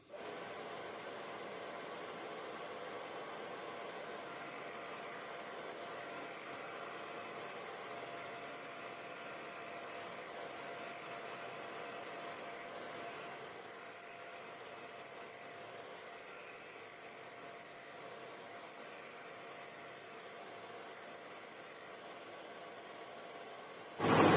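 A lathe boring the jaws of a lathe chuck to a mirror finish gives a steady, continuous machining drone that holds even throughout, with no speech.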